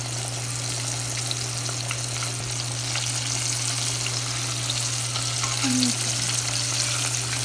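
Vegetables deep-frying in tempura batter in hot oil give a steady, dense sizzle with a constant low hum underneath, while a voice briefly says a word.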